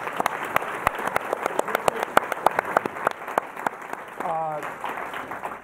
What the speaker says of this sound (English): You should give this man a real round of applause, by the way.